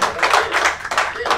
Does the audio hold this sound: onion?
no